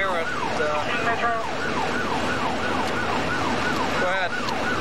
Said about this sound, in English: We don't want to keep your siren going